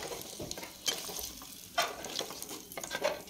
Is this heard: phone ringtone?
no